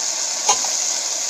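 Okra curry being stirred as it fries in a pan, a single short scrape standing out against a steady loud sizzle with no voices.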